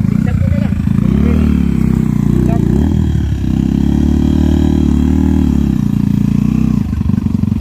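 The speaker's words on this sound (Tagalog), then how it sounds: "gumigiwang yung motor" A motorcycle climbs a muddy mountain road in Benguet on stiff, low-traction tires, its engine droning loud and steady throughout with a brief dip midway, while someone talks over it.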